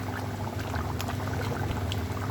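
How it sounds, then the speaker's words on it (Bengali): Ghee spooned into a cauliflower and egg curry cooking in a pan, a steady hissing, bubbling sizzle that runs continuously and close throughout, with no talking. "এক চামচ পরিমাণ ঘি দিয়ে দিলাম।"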